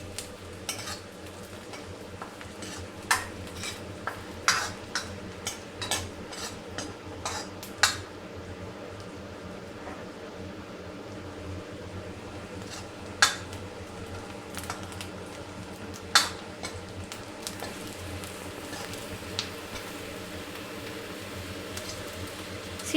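Whole spices (cinnamon, cloves, small and large cardamom, star anise) stirred in a kadhai with onions over steady low sizzling, with sharp intermittent scrapes and clinks of a metal spoon against the pan.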